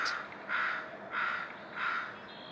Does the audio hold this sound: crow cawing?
yes